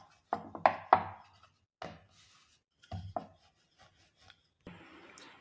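Puri dough made with maida is rolled out using a wooden rolling pin on a board: a few sharp wooden knocks and short rubbing scrapes arrive in separate bursts with quiet gaps between them, close and fairly soft.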